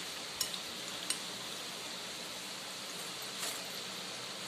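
Chettinad paniyaram, made from urad dal flour, frying in a pan with a steady, even sizzle, quiet and continuous, with a few faint clicks and one brief swell near the end.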